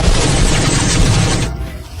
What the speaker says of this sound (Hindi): फौज की गोलियां बारिश की तरह मुझ पर बरसने लगी